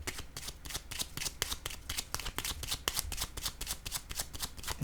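Playing cards are riffled and shuffled in a rapid, even run of crisp snaps, close and clear, with no voice over them.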